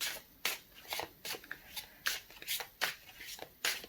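Tarot cards are shuffled by hand in soft, quick riffles and slaps, a dozen or so light papery bursts close and quiet with no talk.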